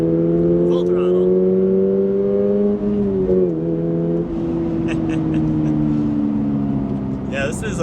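A 2025 Toyota GR86 Hakone pulls hard at full throttle on a track. The loud, droning engine note climbs steadily, dips briefly at a gear change and then keeps rising under constant cabin roar.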